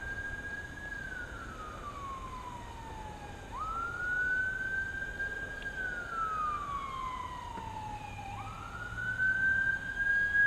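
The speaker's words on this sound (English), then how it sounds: "Ambulance." An ambulance siren wails in slow rising and falling sweeps, heard from a distance and fairly faint beneath steady background noise, at an outdoor park at sunset.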